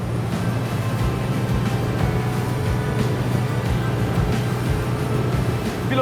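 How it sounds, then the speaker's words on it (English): SWAN Overshadow motor boat with an 880 hp stern drive engine running at speed, a loud continuous engine drone mixed with rushing water and wind, steady throughout with no talking. "with this type of stern drive engine of 880 horsepower, the new SWAN Overshadow can easily reach and exceed 40 knots"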